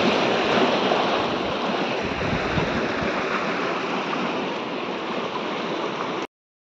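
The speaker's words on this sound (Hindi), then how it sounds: "काफी तेज बहाव है इस नदी का।" Fast-flowing river beside a bridge, heard as a loud, constant broadband rush of water near the listener, steady until it cuts off abruptly at the end, with no speech.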